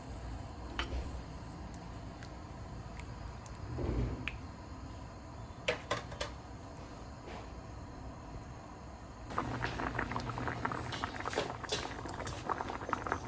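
Fish and tomato stew simmering in a pot, a steady bubbling patter with scattered pops and ticks, growing busier and louder toward the end, with no talk.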